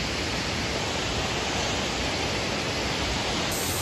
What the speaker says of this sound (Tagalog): Ayan, yung falls niya.